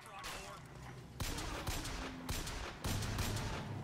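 A hostile robot in Bioshock Infinite fires bursts of gunfire in a busy game mix, several sharp shots standing out over constant din at a fairly low level.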